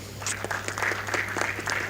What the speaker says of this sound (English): One more time, let's have a clap for them.